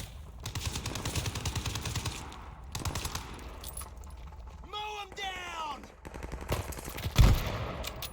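Automatic gunfire in the video game Call of Duty: Vanguard, with bursts of machine-gun fire against enemy infantry, broken by short pauses, mechanical weapon handling sounds and a heavy thump near the end, while a player shouts over it.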